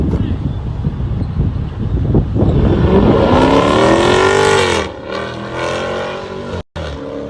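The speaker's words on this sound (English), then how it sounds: "all he got is the exhaust in there, and it sounds good as hell" A Chevrolet Camaro SS Scat Pack with an aftermarket exhaust revs up with a deep, rising exhaust note, loud and close, then settles into a steady rumble; wind buffets the microphone throughout.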